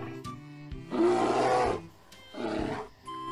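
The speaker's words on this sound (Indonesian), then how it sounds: "ini induk beruang kutub" A mother polar bear gives two loud, rough roars close by, a long one followed by a shorter one after a brief pause, with no talking over them.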